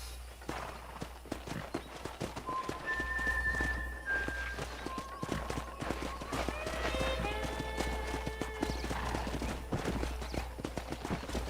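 Horses clip-clop and gallop over the ground in the Western video game Red Dead Redemption, their hoofbeats fast and close. A horse whinnies partway through, and soft background music and game voices sit underneath.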